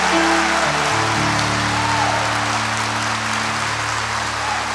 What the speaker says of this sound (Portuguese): Vamos aplaudir uns aos outros.